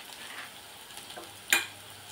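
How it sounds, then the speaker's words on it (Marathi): Onion and spices fry gently in oil for a black-eyed pea usal, a soft steady sizzle broken by one sharp utensil clink partway through, close and quiet. "तेलावरती व्यवस्थित परतून घेणार आहोत।"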